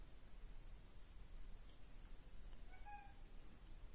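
A cat gives a short, faint meow over steady background noise, heard once in the latter half.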